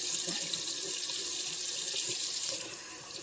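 A kitchen tap runs steadily while food for homemade baby puree is rinsed, a close, continuous hissing stream of water that eases off slightly near the end.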